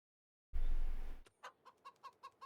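Chickens in Farming Simulator 25 give a run of six short, evenly spaced clucks at moderate volume, following a brief burst of rumbling noise.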